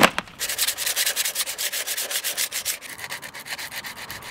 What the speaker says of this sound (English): Just sanded off the loose paint, and then I'm just going to chuck some of this on, cure rust